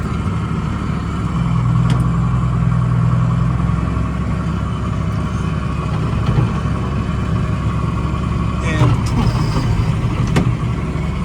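A truck plowing snow in a snowstorm, a steady loud engine drone running throughout with faint scraping and a few clunks from the plow blade.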